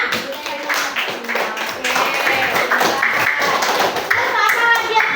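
Children clapping hands together in an Indonesian primary classroom at a teacher's prompt, a busy burst of overlapping claps under the teacher's voice and chatter from the kids.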